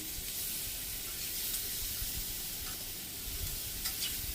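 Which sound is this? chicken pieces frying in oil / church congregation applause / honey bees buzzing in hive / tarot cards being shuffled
chicken pieces frying in oil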